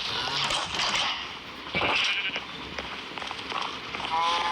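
Sheep-like bleating from farm animals inside the video game Minecraft, several wavering calls sounding fairly close over a steady background of game sound.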